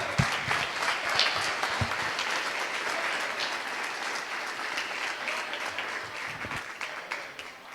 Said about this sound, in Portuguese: Se é para o Senhor Jesus, aplauda mais alto aí.